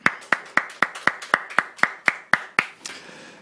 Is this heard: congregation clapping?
yes